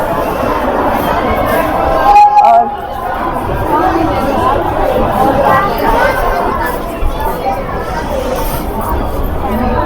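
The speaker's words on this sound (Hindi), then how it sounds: "और ये देखो भीड़ स्टेशन पे।" Dense crowd chatter fills a busy railway station, a loud, steady babble of many overlapping voices with no single voice standing out.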